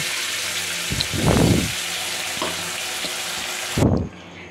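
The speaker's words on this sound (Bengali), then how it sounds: "এবার আমি এই পটল বাটাটাকে আমি ঢেলে দেব" Ground pointed gourd paste is poured into hot oil with fried nigella seeds and dried chili in a pan. Two loud sizzling bursts surge up and fade, with a quieter crackle between them.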